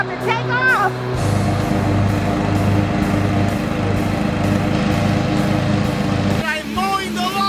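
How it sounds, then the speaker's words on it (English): A small riding lawn mower engine runs steadily and loudly up close for several seconds, a continuous droning hum, with voices calling out over it near the start and end. "I'm mowing the lawn in my new little car!"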